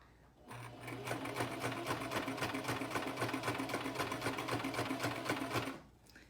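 A sewing machine runs a continuous stitch through face mask fabric for about five seconds, a close, even rapid needle rhythm that starts and stops cleanly, with no voices.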